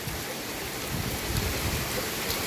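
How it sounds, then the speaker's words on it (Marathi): Steady, dense rain pours down without a break, a continuous broadband hiss with a low rumble underneath and no voices. "बराच मोठा पाऊस चालू आहे आता"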